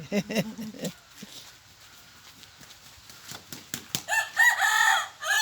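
A rooster crows in a Long-neck Karen village in Thailand, a loud, clear call near the end, preceded by scattered knocks and faint clip-clop sounds.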